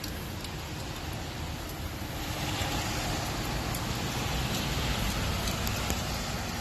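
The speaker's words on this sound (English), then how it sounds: "Man, look at it. It's raining." Steady, dense rain pattering on a surface nearby, an even hiss that continues without a break.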